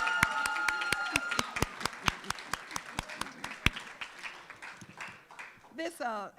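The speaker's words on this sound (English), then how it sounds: "Give them another round of applause, please, all of them." Scattered, sparse clapping at a university oratory competition, distinct individual claps at close range that thin out over several seconds, ending with a brief burst of voices.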